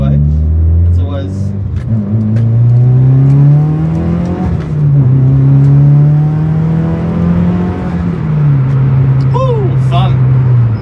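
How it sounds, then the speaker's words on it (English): A turbocharged Mitsubishi 4G93 SOHC car accelerating onto a freeway, its engine droning loud and close as the revs climb, dip at gear changes and climb again, with a voice talking over it. "it's always a bit of fun giving the car some shit, getting it up to speed on the freeway"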